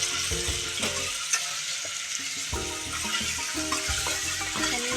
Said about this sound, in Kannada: ಚೆನ್ನಾಗಿ ಎಣ್ಣೆಯೊಳಗೆ ಫ್ರೈ ಆಗಬೇಕು.